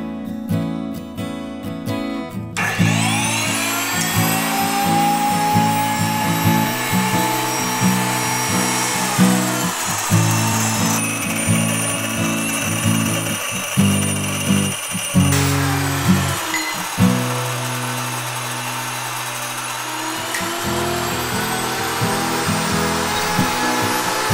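Electric grain mill grinding wheat berries into flour, a loud steady motor whine with a gritty grinding texture that runs continuously, with slight shifts in pitch as the grain feeds through.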